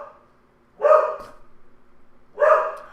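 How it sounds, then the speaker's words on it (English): Two loud bursts of dog barking from nearby dogs, one near the start and another near the end, with a quieter stretch and faint whimpering between them. "until I get the dogs to stop from barking"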